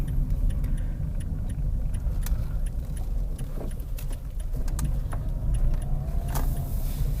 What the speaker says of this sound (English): What's this car doing?